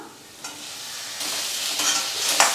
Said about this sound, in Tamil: தக்காளி சேர்த்துட்டு ஒரு வதக்கி விட்டுட்டு உப்பு சேர்த்துடலாங்க